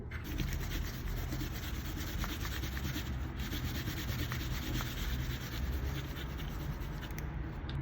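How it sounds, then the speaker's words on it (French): An eraser rubs away pencil construction lines on a drawing, making a continuous close scrubbing for several seconds with no pauses and no voices. "Et on peut gommer notre trait de construction."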